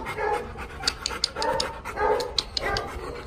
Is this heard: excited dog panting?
yes